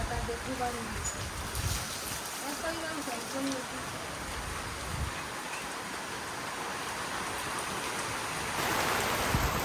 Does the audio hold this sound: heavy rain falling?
yes